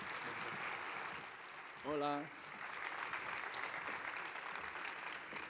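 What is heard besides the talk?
audience applause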